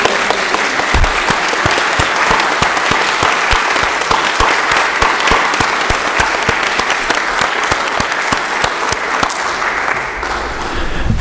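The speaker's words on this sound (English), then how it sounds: "I would like you to take a moment and applaud everyone else in this sanctuary" A congregation applauds in a church sanctuary, with loud, sustained, dense clapping from many hands filling the room for over ten seconds and a slight fade near the end.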